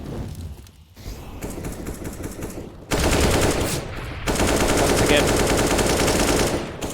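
Gunfire in the Counter-Strike map Inferno during an esports final, loud rapid shots in bursts, with one brief pause and a denser, louder barrage in the second half.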